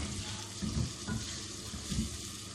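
Tomatoes tipped into a pan of sizzling chana dal, Peshawari Shahjahani style, giving a steady faint fry with a few soft splattering stirs and clatters over the hiss.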